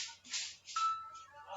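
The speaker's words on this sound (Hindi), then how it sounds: "फोन ही आई है, एक सेकंड रुक जाइए।" An incoming call rings on a mobile phone at home, a faint repeating ringtone in bursts over quiet room noise.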